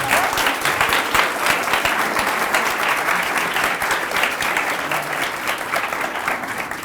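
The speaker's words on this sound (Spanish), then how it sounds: "un aplauso para ellos, por favor" An audience in a university lecture hall at an AI and engineering event applauds steadily for several seconds, a dense, even wash of many hands clapping that fades slightly toward the end.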